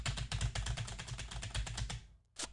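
Rapid clattering keystrokes on a computer keyboard, a steady close run of clicks that pauses briefly near the end, then one last burst.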